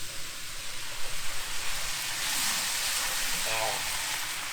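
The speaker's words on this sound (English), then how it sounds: "Give that a stir" Lime juice is stirred into a sizzling paneer dish cooking on a Big Green Egg grill, giving a steady close hiss of frying with light scraping, and a voice talks over the first half.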